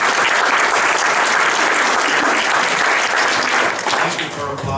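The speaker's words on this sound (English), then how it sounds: "thank you for applauding there" Sustained, loud applause from a conference audience at a carbon pricing session, steady, full-room clapping with a faint murmur, tapering slightly at the very end.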